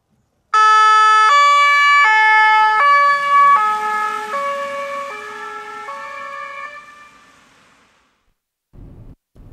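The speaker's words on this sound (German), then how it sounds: "Martinshorn ist auch hier verbaut, natürlich in dem Fall eine elektrische Anlage" Electric Martinshorn siren on a Mitsubishi Eclipse Cross PHEV fire vehicle blares a loud, close two-tone pattern, alternating high and low in steady steps, slowly fading. Two short, muffled bursts follow after a pause.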